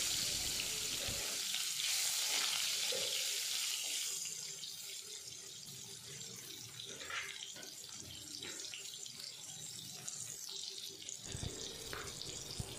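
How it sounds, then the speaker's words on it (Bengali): Cut mango pieces go into hot oil with toasted cumin seeds. A loud hiss flares for the first few seconds, then settles into a softer, steady sizzle with scattered small pops. "জিরেগুলো একটু খড়ে এলে এর মধ্যে দিয়ে দিচ্ছি কেটে রাখা আমগুলো"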